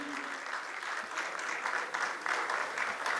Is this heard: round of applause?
yes